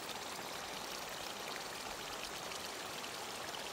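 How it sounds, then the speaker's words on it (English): Warm, gassy hot spring seeps bubbling out of clay ground at sulphur springs in the Valles Caldera, New Mexico, a steady close hiss of fizzing, trickling water with no talk. "The area is just full of these little bubbling seeps."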